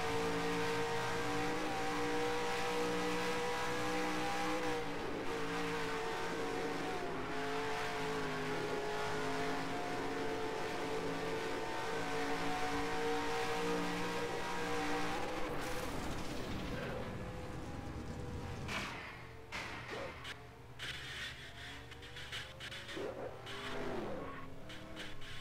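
A race car crashing in NASCAR Racing 2003 gives a sustained engine roar under other cars, then breaks into scraping, clattering impacts as it tumbles. Another crash near the end adds further jolts.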